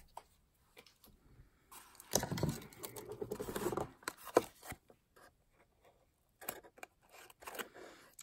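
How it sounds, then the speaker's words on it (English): Adhesive tape torn off against a ruler while making a milk carton treat holder, heard as a close, bursty scraping and ripping around the middle, with quieter handling clicks and rustles before and after. "really like using a ruler better to tear this off."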